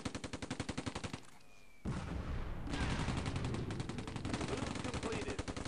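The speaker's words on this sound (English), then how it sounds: "that must be this guy shooting" Gunfire from a soldier in the wartime strategy game Close Combat: A Bridge Too Far, a rapid rhythmic burst of shots, then a short lull followed by denser, continuous firing and rumbling battle noise.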